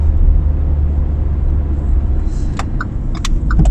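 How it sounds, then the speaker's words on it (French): A small microcar drives along a bike path with a steady, close engine rumble and road noise throughout, plus a few light clicks toward the end. "Petite voiturette, il roule sur le truc à vélo."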